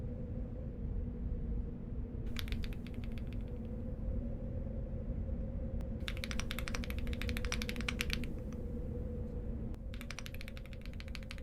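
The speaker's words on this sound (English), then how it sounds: "I can just show you my new keyboard." Typing on a new computer keyboard, bursts of quick crisp key clacks in several separate runs with pauses between, close and clear over a steady low hum, no talk.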